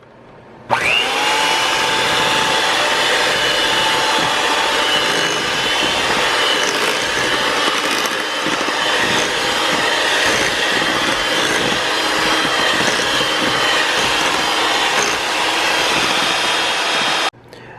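An electric mixer blends vanilla extract into cookie dough, a loud steady motor whine that starts abruptly and runs unbroken for about sixteen seconds before cutting off.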